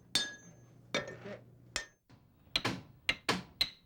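Blacksmith hammering metal in the trades kept alive for the wooden schooner Zodiac: a series of sharp ringing strikes, irregular, with a quicker run of blows near the end, fairly close and with no talk.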